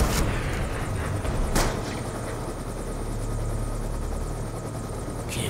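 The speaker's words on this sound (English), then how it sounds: "Just hijacked a Russian helicopter." A Russian helicopter in Call of Duty: Black Ops 2 thumps with a steady rotor beat, loud and close, with a couple of sharp bangs breaking through the drone.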